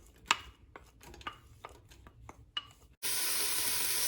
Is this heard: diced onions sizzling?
yes